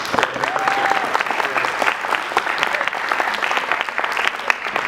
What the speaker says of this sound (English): huge round of applause for the side government.